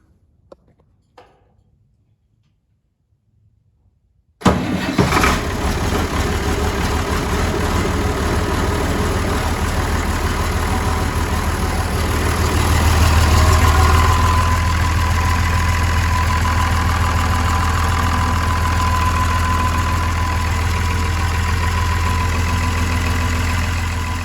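An International 986 tractor engine cranks and catches after a few seconds of near silence, then settles into a steady, loud diesel idle with a deep low rumble and a slight swell partway through.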